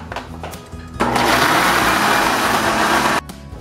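A kitchen blender whirs loudly while mixing bread dough with yeast for a cassava-style bread, starting abruptly after a moment of background noise and running steadily for about two seconds before stopping.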